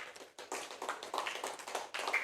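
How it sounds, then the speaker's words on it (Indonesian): A classroom of schoolchildren claps for a presentation group, a fairly quiet, rhythmic patter of hand claps in short bursts with brief gaps. "Tepuk tangan untuk kelompok 2."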